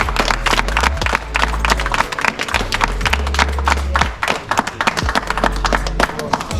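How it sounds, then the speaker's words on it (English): A crowd in a ghetto neighbourhood clapping for a donor from the USA, dense rapid hand claps that run steadily for several seconds alongside a voice speaking and low thumping beats. "We give country a round of applause,"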